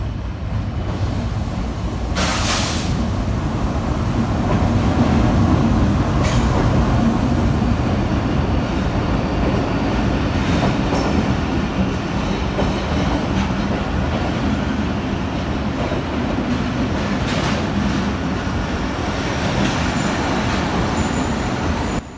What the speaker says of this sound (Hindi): फिर नमूदार हुए GEU 40 जिसका नंबर था 9038, जो लीड कर रहे थे अवामी एक्सप्रेस 13 अप